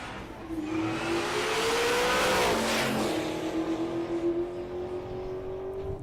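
Drag racing at Mo-Kan Dragway, including a stick-shift fourth-generation 1994 Pontiac Trans Am, with loud engines roaring as they launch and rising through the gears in one long sweep, the sound swelling and then easing off down the track.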